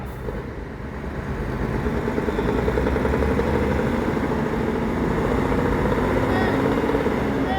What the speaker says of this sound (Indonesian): Ngaungan mesin cooler.